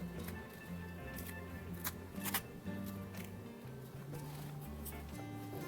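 Scissors trimming fusible interfacing on a sewn collar, heard as a few quiet, crisp snips over a faint low background hum, with no speech.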